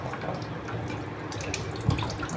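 Tap water runs steadily into a sink as a child's hands are washed, a soft close splashing with a small knock near the end.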